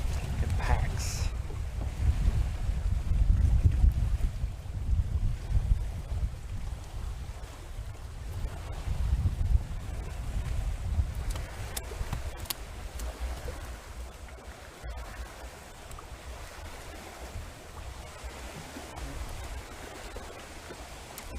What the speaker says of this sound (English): Hear those waves starting to build a little bit.